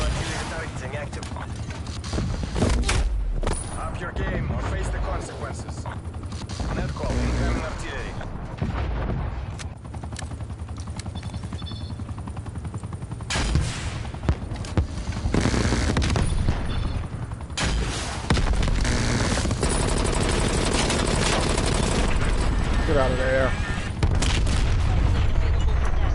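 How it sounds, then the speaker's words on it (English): Artillery barrages and gunfire in Call of Duty Black Ops Cold War make a dense, continuous stream of loud booms, rattling shots and mechanical clatter. Occasional voices speak over the din. "Hostile artillery targeting active."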